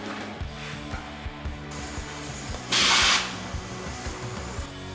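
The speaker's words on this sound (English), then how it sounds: "this impact driver is stronger" An impact driver working on a buggy tire, rapid repetitive hammering clicks under a steady motor whine, with a short loud hiss of air midway, close by and without speech.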